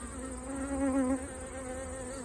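Honeybees buzz steadily right in front of a beehive on a summer day, a dense close-up hum of many wings that swells briefly near the middle, with no talking.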